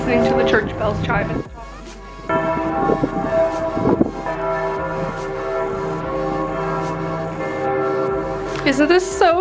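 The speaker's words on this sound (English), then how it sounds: "Casually listening to the church bells chime." Church bells chime from a tower in a steady, sustained ringing of overlapping tones that fills the whole stretch, with brief louder strikes near the start and end.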